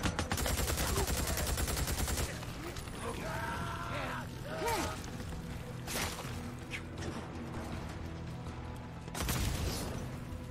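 Machine gun fire in the video game Days Gone, rapid rattling bursts that are loudest at the start, then a steady din of gunfire and mechanical noise with game effects layered over it.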